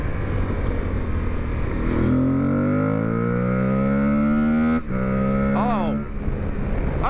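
Aprilia Tuareg 660 motorcycle engine rising in pitch through a couple of hard revs and dropping back, close and loud, with a quick blip near the end.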